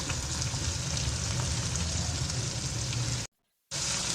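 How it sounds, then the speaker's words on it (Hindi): Ingredients for shaljam gosht frying in a pan, a dense continuous sizzle up close, loud and steady, cut off by a short silence near the end before resuming. "ये देखिए फ्राई हो रहा है।"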